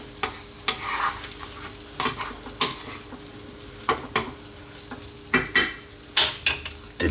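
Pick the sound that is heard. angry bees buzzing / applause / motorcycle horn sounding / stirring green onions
stirring green onions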